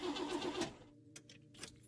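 A car engine in a video game cranks briefly with a mechanical whirr and then cuts out, followed by two short faint clicks, quiet and without any voices.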